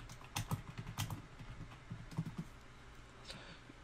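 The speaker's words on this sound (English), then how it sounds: "in the search bar here, you need to type in download Windows 10 ISO." Fast, irregular clatter of keys being typed on a computer keyboard while entering a web search query, close and fairly quiet, with no voices.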